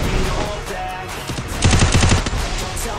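Rapid automatic gunfire in the Free Fire shooting game, loud and close, a dense rattling burst in the middle after a stretch of busy game noise.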